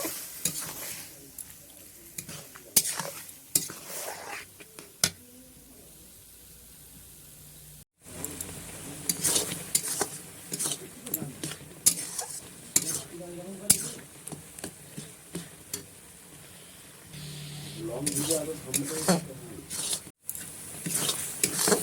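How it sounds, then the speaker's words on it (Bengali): Tomatoes with turmeric cook in a pan, bubbling and sizzling as a spoon stirs them with repeated close scrapes and clinks. A voice talks over the cooking, and there are brief pauses in the sound. "এবার ভালো করে এটাকে সেদ্ধ করে নেবো"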